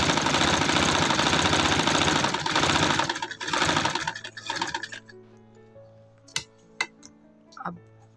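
A sewing machine stitches the collar band of a gents kurti, a steady fast close whir that runs for several seconds, then stops, leaving a few clicks and handling sounds.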